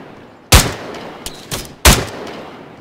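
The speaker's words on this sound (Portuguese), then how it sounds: "Acertei-lhe um tiro primeiro" Several sharp gunshots crack out in the video game ARMA 3, two loud blasts and a couple of softer ones, spaced irregularly over a few seconds.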